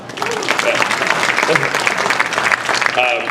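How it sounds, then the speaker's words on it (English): Audience applause at a university forum on a tax bill, steady, fairly loud clapping from a modest crowd, with voices and chatter audible underneath. "now we'll give him a round of applause."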